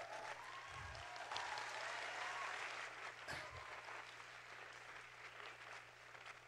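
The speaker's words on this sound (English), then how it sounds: "please give them a round of applause." An audience at a student summit gives a sustained round of applause, steady clapping across a large hall, slightly distant and even in level, with a couple of low thumps.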